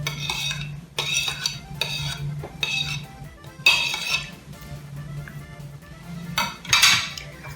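A spoon stirs Tatar dough for gubadiya with softened butter in a bowl, producing repeated scraping and clinking strokes in uneven bursts, close and fairly loud, against a steady low hum, with no voices.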